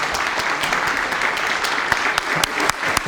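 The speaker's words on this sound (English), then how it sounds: "What are they doing? Clapping" Steady applause from a concert audience, dense overlapping claps filling the whole stretch at an even level, a few sharper individual claps popping out near the end, no voices on top.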